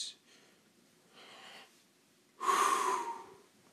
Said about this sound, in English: let me take a deep breath